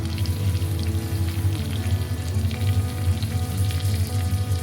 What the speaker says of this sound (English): So let's saute this masala